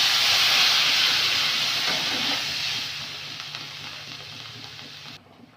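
Water poured onto fried kohlrabi and potato in a hot pan, a loud burst of hissing steam and sizzle that gradually fades to a quieter simmer before cutting off.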